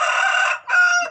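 Rooster crowing close by at a rural farmhouse, one loud call broken by a brief gap before the final drawn-out note.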